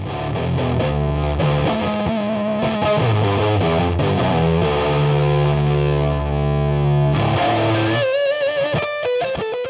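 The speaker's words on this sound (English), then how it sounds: "the sound of the super distorted diminished fifth interval was played on was a Laney LA100BL" A heavily distorted electric guitar through a Laney LA100BL amplifier plays a slow, loud riff built on a diminished fifth interval, with notes sustained and then a brief wavering run at the end.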